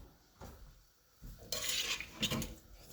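A spoon scrapes and clinks against a pot of Jamaican stew peas after about 20 minutes of cooking, with a few close metallic knocks and scraping bursts in the second half and no talking.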